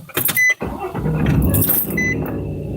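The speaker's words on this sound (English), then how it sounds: "Hopefully that ain't too loud on you with the truck started." A pickup truck engine cranks over, catches and settles into a loud, close running rumble inside the cab.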